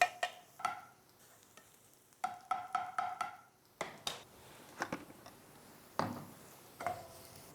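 Onions and curry leaves sweating gently in a pan, with a soft sizzle under scattered bursts of sharp ladle taps and stirring scrapes against the metal, close and quiet, no talk.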